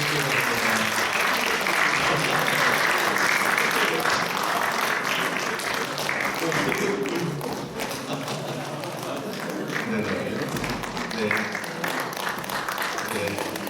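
A congregation at a Korean church ordination service claps warmly and continuously, a full, even round of applause with some voices and thumps mixed in.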